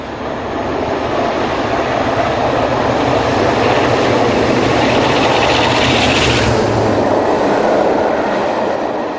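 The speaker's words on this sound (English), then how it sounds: "45107 is southbound on the quadruple track at Cossington." A Class 45 diesel locomotive runs southbound past on quadruple-track main line at Cossington, a loud, steady roar of engine and rolling wheels lasting throughout, swelling slightly mid-pass before easing.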